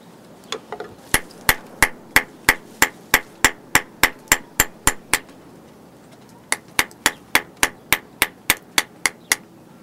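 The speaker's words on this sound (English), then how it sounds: "I'm hammering the edge of the silver sheet to flare it out, and it just takes moderate blows with a small hammer." A small hammer strikes the edge of a silver sheet to flare it out during knife making, landing about two dozen sharp, evenly paced metallic taps with a brief pause midway. The blows are close, clear and unaccompanied.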